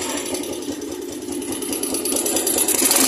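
A small motorcycle engine catches after a kick start and runs at a steady, rattling idle, close and loud, with its revs rising slightly. The bike had died and refused to start until a wiring fault was fixed.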